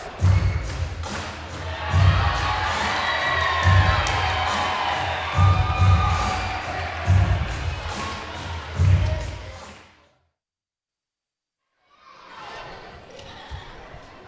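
A crowd of children cheers and shouts for a wrestler at a live wrestling event, a loud, continuous roar with rhythmic stomping thuds, cutting off abruptly to silence before fainter crowd noise returns.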